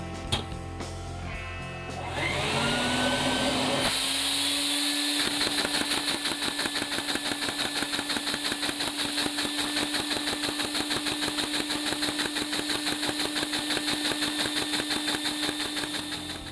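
A LEGO Technic flathead vacuum engine built from regular Technic bricks and axles spins up from a start and then runs steadily, giving a fast, even mechanical whir with rapid rhythmic ticking close by.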